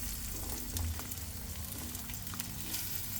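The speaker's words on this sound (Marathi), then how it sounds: "तेल गरम झाले, आता आपण त्यात पहिला कांदा टाकून घेऊ।" Onion dropped into hot oil for a homemade pizza topping, giving a dense continuous sizzle and crackle up close, steady and unbroken for a few seconds with no talking.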